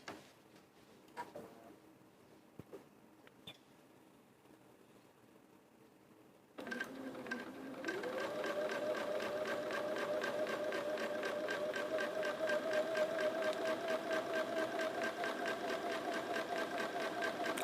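A sewing machine stitches quilt blocks. After a few quiet taps it starts up into a fast, steady mechanical whirr with a rapid ticking rhythm that picks up speed and holds there, close and continuous.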